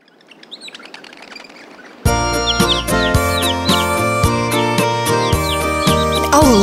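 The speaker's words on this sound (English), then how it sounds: "Look at those two dicky birds." Small cartoon birds chirp in quick high tweets over a bright nursery-rhyme music track, the chirps repeating throughout alongside the melody.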